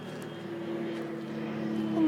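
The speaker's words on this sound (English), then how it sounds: "Sorry about the airplane." An airplane passing over a backyard vegetable garden, a faint steady drone that slowly grows louder toward the end, with no voices.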